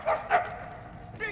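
A dog in the Mad Max video game gives two quick close barks, then a short yip at the end.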